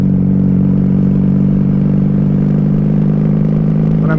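A 1994 Honda Magna 750 (VF750C) V4 engine running low on fuel, droning steadily and loudly at a mid pitch as the throttle is cranked, with little rise in revs and a brief whine at the very end.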